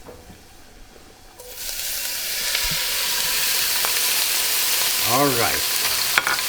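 Canned baby clams go into a hot pan of sizzling garlic, the frying hiss jumping louder as they land and holding steady, with a short spoken remark near the start.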